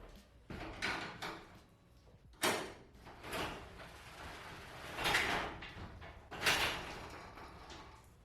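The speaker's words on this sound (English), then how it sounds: "I'm going to open up the garage door a little bit just to get some airflow." A garage door is rolled open a little way in a home garage on a rainy day during a fuel pump repair, giving several rumbling, rattling bursts of movement with pauses between them, fairly close and with no talking.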